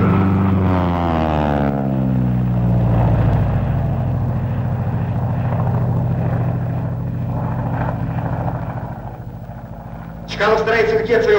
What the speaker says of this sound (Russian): А сейчас самолеты разошлись в разные стороны, чтобы потом с исходных позиций начать бой.